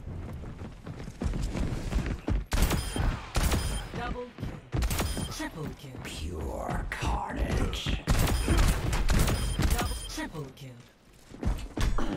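Rapid shotgun blasts in the Overwatch video game, repeated punchy bursts amid dense game effects and clatter throughout, with a voice talking over it.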